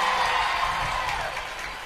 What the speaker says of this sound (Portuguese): Pode aplaudir porque é muita coisa.